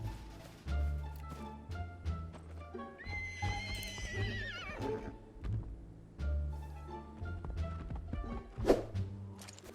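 Horse in the video game Project Evo, a loud whinny in the middle among repeated clip-clop hoof thuds and snorts, close by, no talking.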